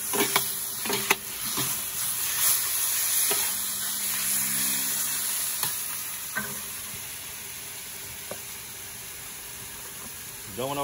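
Chicken fajitas with garlic sizzle and fry in a wok on a Big Green Egg, a steady hiss broken by scrapes and clatters of stirring, with brief quiet talk nearby.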